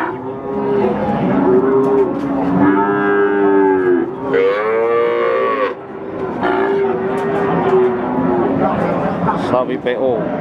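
Ongole cattle moo loudly and repeatedly up close at a livestock market, long deep lowing calls overlapping one another with barely a pause.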